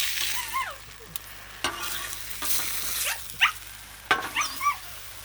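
Turkey and Colby Jack cheese sizzle on a griddle as a soft, steady frying hiss, broken by scraping and flipping clatters and a few sharp squeaky bursts.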